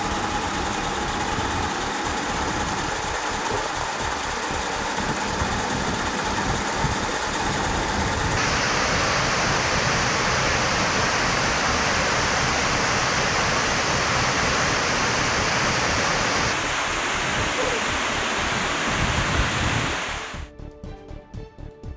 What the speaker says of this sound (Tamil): தொடர்ந்து 3 மதகுகள் வழியாக தண்ணீர் வெளியேற்றப்பட்ட காட்சிகள் வெளியாகியுள்ளது.